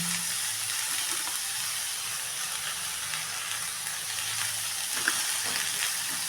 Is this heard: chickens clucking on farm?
no